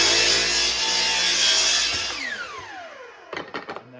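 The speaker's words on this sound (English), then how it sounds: "I'm going to run my miter saw right up to my line" A miter saw slices through a wooden board for a DIY IBC tote cold plunge build, its loud whining cut spinning down into a fading coast, followed by a few sharp knocks and clatters close by.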